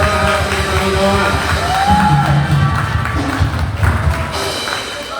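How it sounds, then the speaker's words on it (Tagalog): A church congregation at a Sunday service claps and cheers loudly and steadily, with scattered shouts rising from the crowd throughout. "Bigyan ulit natin ng isang malakas na palakpak si Lord"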